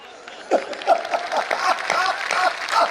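An audience claps through a talk-show style event, a scattered, uneven burst of applause that swells and fades in waves across the room rather than a tight unified ovation.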